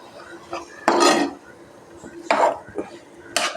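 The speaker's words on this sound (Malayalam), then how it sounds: "ഇനി നമുക്ക് ഇളക്കി നോക്കാം" Semolina (rava) is stirred in a cooking pan, three distinct bursts of close scraping and clinking separated by quieter pauses.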